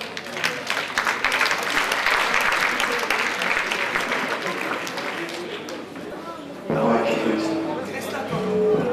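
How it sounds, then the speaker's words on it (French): Audience applause at a comedy stage show fills the clip with dense, steady clapping that dips slightly, then returns louder with a voice and crowd noise mixed in near the end. "Et on l'applaudit bien sûr."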